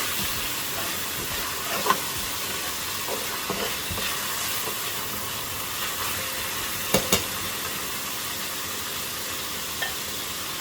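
Green chili paste sizzling in a hot pan with oil, a steady hissing frying noise throughout with a few soft clicks of stirring.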